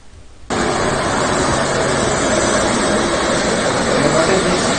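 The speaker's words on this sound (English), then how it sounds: "Helicopter flight has taken off." Summit Airlines helicopter lifting off at Everest Base Camp, a loud, steady roar of rotor and turbine that starts abruptly and holds at full strength throughout, with no voices over it.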